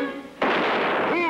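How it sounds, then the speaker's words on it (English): A cartoon gunshot at a lock in a 1966 Lone Ranger western bursts out loud and close as a single broad blast with a sustained noisy tail, following brief voiced sound and followed by a tonal voice or effect. "Bullet in lock."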